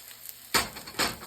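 Homemade spicy orange chickpea balls given a dry fry in a pan, with two sharp bursts of sizzling and crackling after a quiet start, close and moderately loud, with no talking.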